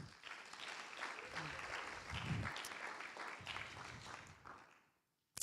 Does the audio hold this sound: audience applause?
yes